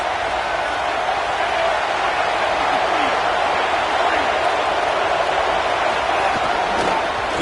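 Stadium crowd at an Oklahoma vs Miami college football game: a steady, dense roar of thousands of fans that holds throughout, with a commentator's voice talking over it.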